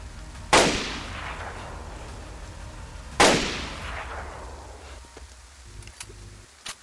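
Two loud gunshots fired in a pirate video game, each a sharp crack with a long decaying tail, spaced about three seconds apart, followed by faint background game noise and no talk.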